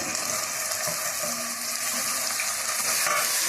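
Tomatoes frying in a pan for a dried prawn and egg curry, a steady close sizzle with hissing texture and faint stirring throughout.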